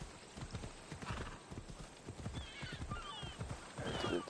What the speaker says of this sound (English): I'm gonna hop off the horse because I don't want to run people over again.